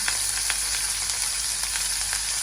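Onion and curry leaves frying in hot oil with a little mustard seed, a steady close broadband sizzle with faint crackles throughout, no voices.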